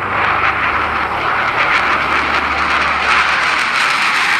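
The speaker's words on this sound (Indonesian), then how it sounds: "Ini jet tempur." A fighter jet in blue and white livery passes with a loud, steady roar that holds through the whole stretch, with no talk over it.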